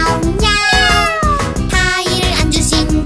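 Cartoon kittens meow repeatedly in sung, drawn-out tones over a bright children's song accompaniment, with loud overlapping cat cries and no spoken voice.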